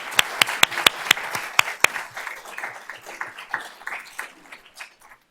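An audience at a school board of trustees meeting applauds, beginning with several sharp, loud single claps that quickly blend into scattered clapping and then taper off.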